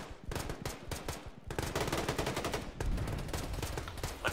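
Rapid bursts of machine gun fire in the Arma 2 battlefield of Chernarus, loud and close, firing in repeated strings with brief gaps and a heavier sustained burst near the end.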